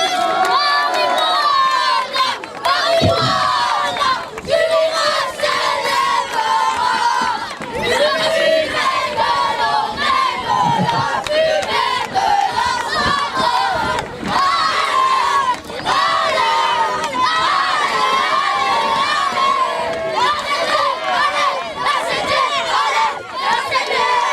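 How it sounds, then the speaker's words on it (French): A crowd cheers and shouts loudly and continuously for the Tricastin youth rugby team at a children's rugby tournament prize-giving, with many voices, including children, overlapping throughout. "Bravo, on applaudit bien fort les tricastins."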